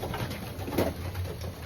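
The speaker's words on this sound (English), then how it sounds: "This here is an engles pigeon." An Engles racing pigeon coos softly, a few low throaty murmurs rising and falling close to the microphone, with light background hiss and no talking.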